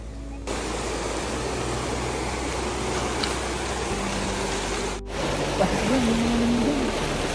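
Steady broadband rush of flowing river water, fairly faint and even, with a brief voice-like tone near the end.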